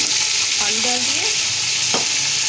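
Potatoes tipped into golden fried onions for matar pulao set off a loud, continuous sizzle, with a sharp stir or clatter near the end.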